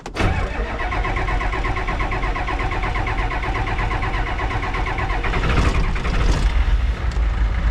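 A junkyard Ford wrecker's 7.3 diesel engine cranks and catches, then settles into a loud, close, steady rumbling idle with some rattling that continues to the end.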